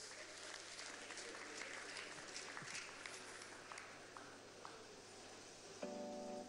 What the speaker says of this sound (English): Come on, don't stop clapping.